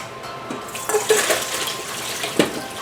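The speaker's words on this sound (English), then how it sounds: "I'm going to go ahead and take this colander and drain them out." Hot water and boiled sweet potatoes pour into a colander in a kitchen, a close splashing gush with a few sharper knocks, steady for under three seconds with no talking.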